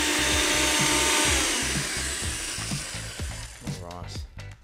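A blender blitzes a lemongrass dressing with finely diced Asian shallot, giving a loud, steady whirring roar with a pulsing low churn that loosens and fades toward the end.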